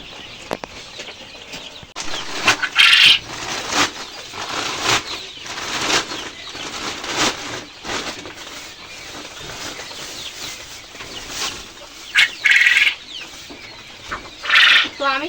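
Pet quails in a cage drink medicated water, letting out short, bright chirps and occasional wing flutters while a voice talks through most of the scene.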